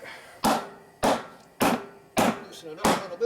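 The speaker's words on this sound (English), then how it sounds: "let's use our hammer again" A hammer strikes a 1950s 15-inch split rim on a 1940s Chevy or GMC truck wheel while demounting the tire: five sharp, loud metallic blows at an even pace, each ringing briefly before the next.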